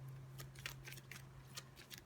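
A deck of game cards is shuffled by hand during a board game setup: faint, irregular papery rustles and soft flicking bursts close by, with no talking.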